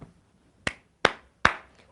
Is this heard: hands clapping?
yes